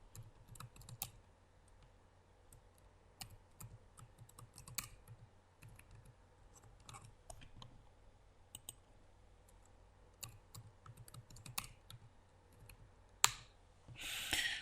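Someone typing an email address and password on a computer keyboard, scattered quiet key clicks in short bursts with pauses, faint and close, ending in a louder click.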